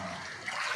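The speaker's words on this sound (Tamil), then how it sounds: "கடல் தண்ணி ஃபுல்லாக வந்துட்டு இருக்கு பாருங்கள்." Seawater flows steadily into flooded coastal houses during a storm surge near Irayumanthurai, a continuous rushing wash with no talk.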